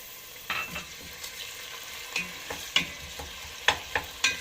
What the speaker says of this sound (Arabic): احط البصلة بالشكل ده، اقلب كده لحد ما تحمر.